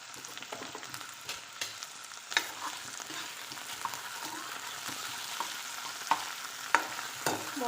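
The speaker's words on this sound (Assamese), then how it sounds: "তেলখিনি গৰম হৈ গ'ল, এতিয়া মই পাঁচফোৰণ অলপ দি দিছোঁ" Five-spice, ginger, garlic, chili and turmeric fry in hot oil, a steady close sizzle with scattered small pops and spoon-stirring scrapes throughout.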